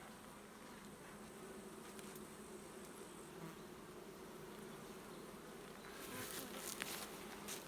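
Honey bees at a log hive make a steady, low droning buzz, with a few individual insects passing close near the end and no speech.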